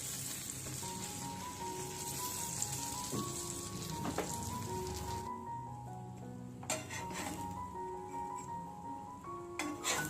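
Bread slices fry in butter or ghee in a pan, a steady close sizzle and crackle running the whole time without a break, with no voices over it.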